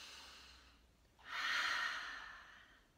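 During a core stabilization and stretching routine, one slow, airy breath swells up and then gently fades, soft and close, with no talking.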